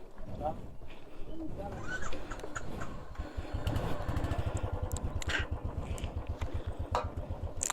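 Motorcycle engine running on a rough forest trail, a steady low chugging putter close by, heard under ongoing conversation between riders.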